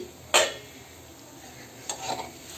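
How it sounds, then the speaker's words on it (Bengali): A spoon scrapes and stirs through a thickening green apple ice cream mixture in a pot on low gas, two distinct clattering strokes with soft scraping between, close and alone with no talk. "এইভাবে নাড়াতে হবে"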